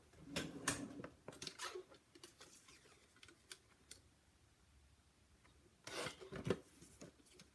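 Paper being trimmed for a handmade card, quiet rasping slides and taps in short bursts, with a pause in the middle and a louder flurry near the end.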